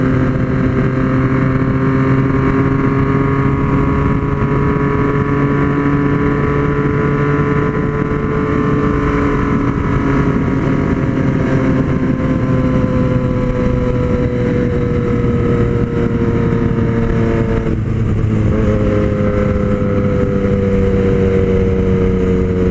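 A Yamaha MT-09 or Suzuki GSX-S750 motorcycle riding steadily, its engine droning with sweeping pitch rises and a dip where a gear changes, continuous and loud with wind noise.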